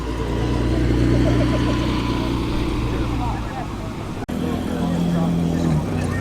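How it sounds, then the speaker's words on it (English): A classic Ferrari Dino pulls away at a classic car show at Capesthorne Hall, its engine a loud, steady drone close by that dips briefly before resuming, with background voices around. "Off goes that sensational little Dino"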